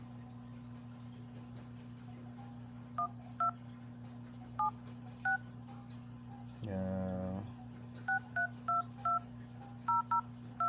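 Short Google Pixel 6 Pro keypad tones beep one after another at an uneven pace over a steady low hum, with a longer buzzing tone partway through and a brief spoken word.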